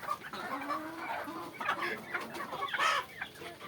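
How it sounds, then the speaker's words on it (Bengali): Several chickens clucking close by, a steady run of short, overlapping calls with a few sharper squawks. "এই দেখছেন আবার কয়েকটা মুরগি আসছে"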